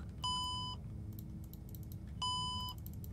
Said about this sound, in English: Stop with the alarms, please.